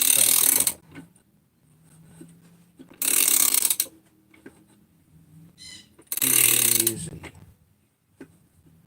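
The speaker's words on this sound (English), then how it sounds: "Nice to have a ratcheting wrench on this if at all possible. And you just crank it down." Ratcheting wrench cranking down crankcase bolts on a Bob's 288 engine, heard in three loud bursts of rapid clicking separated by quieter pauses, with a brief word spoken.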